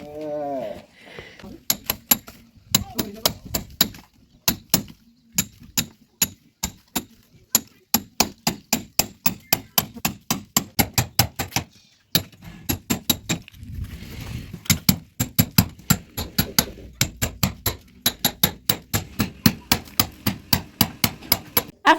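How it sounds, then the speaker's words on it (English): Masons chisel into a house wall to cut channels for plumbing pipes. Sharp metallic hammer-on-chisel strikes ring out in quick, steady bursts, near and loud, with short pauses between runs. "you can see they are done with chiseling"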